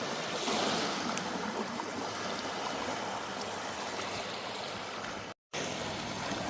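Waves lap and wash along a Lake Huron agate beach in Michigan, a steady rushing hiss with wind noise over the microphone, continuous apart from a short dropout near the end.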